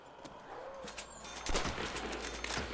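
Gunfire in the World War II shooter game Call of Duty: World at War, a burst of several quick game shots with a louder cluster midway, under a steady layer of in-game background noise.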